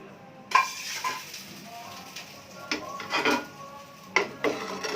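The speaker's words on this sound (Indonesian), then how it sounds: "Nampaknya nih telur lenggang ya, biasa dipanggang di atas bara, ini kita goreng ya" Pempek lenggang, an egg-and-fish cake, cooks in a frying pan with a soft sizzle under repeated scrapes and clinks of a utensil against the pan; no talk.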